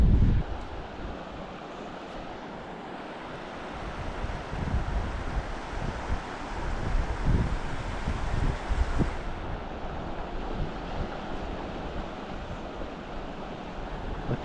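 Steady wind buffeting an outdoor spot by a stream in the Eastern Sierra while fishing in spring, a continuous loud rumbling roar with gusts and no talking.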